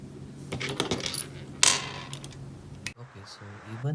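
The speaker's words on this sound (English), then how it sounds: "Okay, so I'm going to tighten these two screw now." Small metal screws on an RC motor mount for a Holmes Hobbies Torquemaster Pro 27T motor in a TRX6 crawler are tightened, with clinking and scraping metallic clicks, close and fairly crisp, in scattered bursts.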